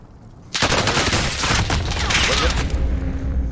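Rapid bursts of gunfire from the Call of Duty Warzone battle royale video game erupt suddenly and stay loud and dense for about three seconds, with faint voice chat underneath.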